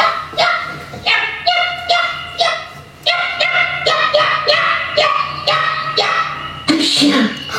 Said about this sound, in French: Un chien.